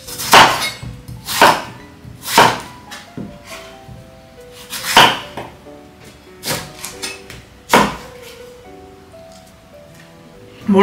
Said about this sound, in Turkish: Bir tane daha domates doğrayalım içine.